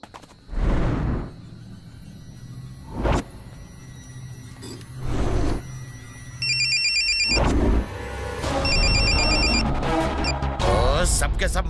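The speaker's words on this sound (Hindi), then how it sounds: "कोई फोन क्यों नहीं उठा रहा?" A telephone in a film scene rings unanswered in repeated trilling bursts, interleaved with loud whooshing hits and dramatic sound effects.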